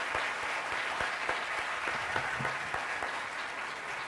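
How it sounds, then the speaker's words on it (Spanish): Audience at a film festival awards ceremony applauding, a steady wash of clapping that holds at an even level throughout, with a few sharper individual claps standing out. "un aplauso muy fuerte a todos ustedes"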